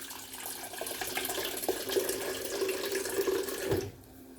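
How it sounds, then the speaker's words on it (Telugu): Water runs from a kitchen tap in a steady splashing stream, filling a vessel close by, then shuts off abruptly near the end. "వాటర్ పట్టి ఇప్పుడు"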